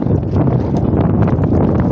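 Heavy wind at Manapad beach, Tuticorin, buffets the microphone in loud, steady low rumbles and gusts, with no voices.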